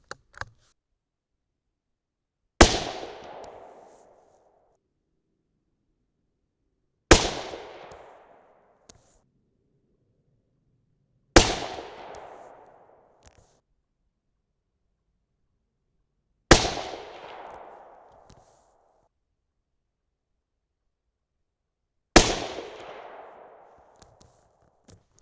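A 6.5 Creedmoor rifle firing 140-grain Speer Gold Dot loads cracks five times, each shot loud and sharp with a short fading tail. The shots are spaced several seconds apart, with near silence between them.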